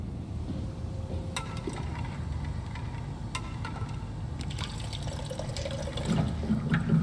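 In the video game Soma, a tap pours water into a cup with a steady, close hiss and splash that grows fuller toward the end, alone with no talk.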